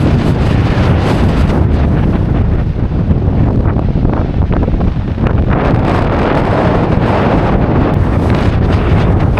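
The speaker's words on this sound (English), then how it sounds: "It sure is breezy." Strong wind buffets the microphone on the coast at Ayr, Ayrshire, a loud steady roar of gusts that never lets up, with surf likely mixed underneath and no voices.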